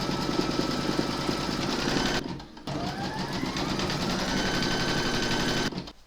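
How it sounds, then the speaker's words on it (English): A home embroidery machine stitches an in-the-hoop quilting round on fabric, a steady, fast mechanical whirr with a brief pause in the middle, close and loud with no talk. "Now going to pop your hoop back into your machine and stitch round number 8."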